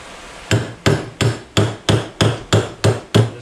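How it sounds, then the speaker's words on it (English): A 2-pound hammer strikes a new floor pan being shaped during a 1972 Plymouth Duster restoration, nine sharp metallic blows in an even rhythm, each ringing briefly, loud and close with no talk. "2-pound hammer."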